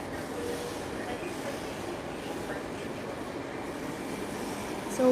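Steady rumbling ride inside a long Moscow metro train with undivided carriages, a constant mid-level roar of wheels and motors while someone talks over the noise.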